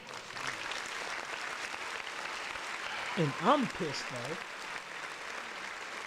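Applause from a podcast audience or crowd runs steadily through the stretch, with a voice briefly talking over it midway.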